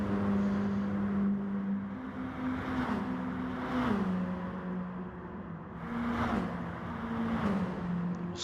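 A Mini Cooper race car at full throttle on a street circuit, its engine droning loud and sustained with pitch shifts and surging revs from gear changes, close and continuous with no voices.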